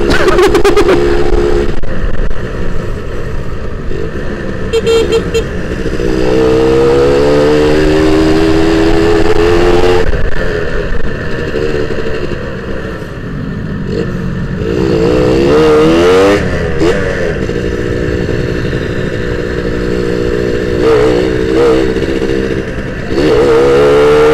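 A loud two-stroke Suzuki Satria 120 R motorcycle engine revs and accelerates close by, its pitch rising and falling through repeated throttle pulls over steady wind noise.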